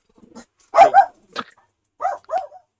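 A few dogs bark in short bursts indoors, about five sharp yaps and woofs spread over a couple of seconds, fairly close and loud with quiet gaps between them.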